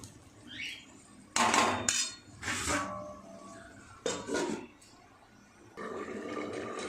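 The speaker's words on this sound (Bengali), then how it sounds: "এবার ঢাকা দিয়ে সিদ্ধ হতে দেবো।" A lid clatters onto a metal pot of prawn, potato and pointed gourd curry: several sharp, close clanks and scrapes come in bursts, with quieter gaps between them and no talking.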